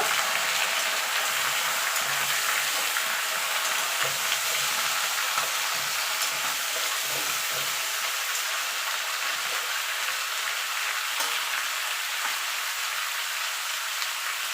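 Mixed vegetables with stalks and jackfruit seeds frying in a pan, giving a continuous, even sizzle with no talk.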